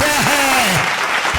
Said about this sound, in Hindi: सब लोग बजा दो एक बार ताली